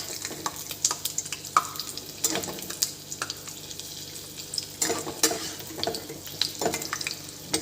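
Jackfruit fritters crackle and sizzle in hot oil while a spatula turns them over. Irregular scrapes and clatters sound close by over the continuous frying.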